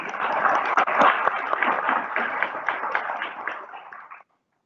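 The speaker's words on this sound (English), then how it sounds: "Sandy has done a great job under very challenging circumstances and deserves a round of applause." Audience applause for an event organizer at an annual meeting, a dense wash of many hands clapping steadily for about four seconds before stopping abruptly.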